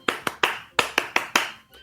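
Hands clap seven times in an uneven rhythm, fairly close and moderately loud, with short pauses between the claps.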